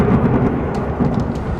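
Loud, heavy thunder from a powerful lightning strike, a deep sustained rumble with rain-like hiss filling the background throughout.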